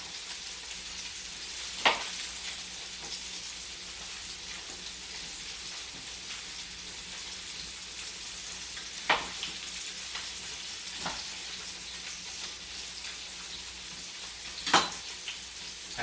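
Salmon searing in a hot pan gives a steady, even sizzle and crackle throughout, with a few sharp clicks or pops spaced seconds apart and no talking.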